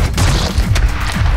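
Heavy gunfire in Call of Duty Black Ops 6: loud, close booming shots that land in quick succession across a brief burst, with no talk.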